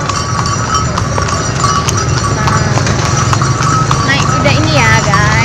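A horse-drawn carriage ride at Taman Seribu Lampu in Cepu, Blora, with steady rhythmic hoof clip-clops close by throughout, under people chatting.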